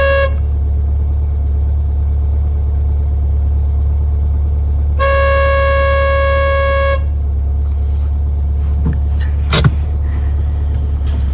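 A car horn honks in one long steady blast over a constant low engine rumble from a stationary vehicle, with a short sharp click or knock near the end.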